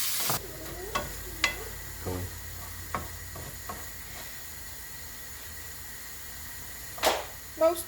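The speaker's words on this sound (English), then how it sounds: "add the tomatoes and fry until all of the liquid, or most of it, has evaporated." Mushrooms and tomatoes fry in a pan with a soft, continuous sizzle, broken by occasional clicks and scrapes of stirring and a couple of louder knocks near the end.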